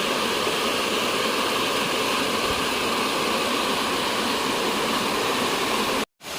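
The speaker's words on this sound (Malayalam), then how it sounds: "ചെറിയ അരുവിയൊക്കെ ഉണ്ട്." Rushing water at Anara Waterfalls in Kannur, a loud, steady broadband roar of falling and flowing water that fills the whole span without pause before cutting out near the end.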